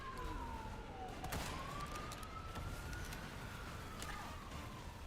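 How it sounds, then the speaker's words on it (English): Ambulance siren passing on a street, a wailing tone sweeping down and up again at moderate distance over steady traffic rumble, with a brief thud partway through. "ambulance has decided to pass"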